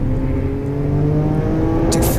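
Race cars in a Trackday Trophy race at Brands Hatch sweep around Paddock Hill Bend, a loud, continuous engine drone with steady high revs and a brief bright burst near the end.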